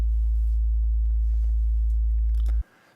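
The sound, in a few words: sub bass sine tone from Logic Pro test oscillator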